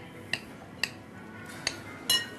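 A spoon clinks against a bowl four times at irregular intervals while stirring cane sugar into carrot cake batter, light metallic taps with quiet between them.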